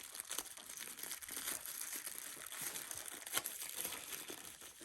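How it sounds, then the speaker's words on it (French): Packaging of an Insta360 GPS remote being unwrapped, close, quiet crinkling and rustling of plastic and paper in uneven bursts, with no one speaking. "Allez, on va continuer à déballer."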